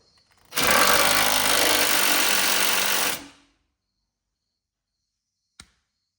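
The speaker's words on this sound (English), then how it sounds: "we're going to make a loud noise now. Okay. With the drill." A power drill whirs loudly and steadily for about three seconds during basic mechanics work, then stops abruptly, followed by silence and a single short click.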